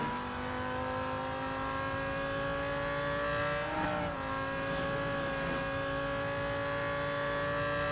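McLaren Solus GT in Real Racing 3 holds a loud, sustained engine drone with a brief pitch dip and recovery midway as the car shifts and pulls on, no talking.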